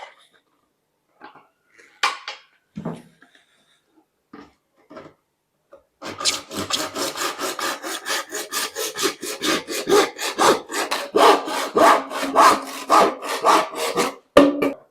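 A plastic waste pipe being sawn through with rapid, steady back-and-forth strokes that run for about nine seconds, close and loud, after a few quiet handling clicks and knocks.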